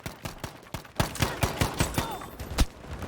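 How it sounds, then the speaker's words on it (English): Rapid gunfire in the Battlefield video game: a string of sharp, loud shots in quick, uneven bursts, some overlapping, with a few echoing blasts near the middle and end. "the gunshots and explosions more realistic sounding"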